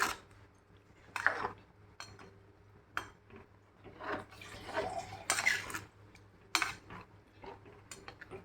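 A metal spoon stirs tuna fish curry in a pot, with scattered clinks and scraping knocks against the pot's sides, soft and close in an otherwise quiet kitchen.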